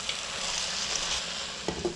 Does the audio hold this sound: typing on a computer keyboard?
no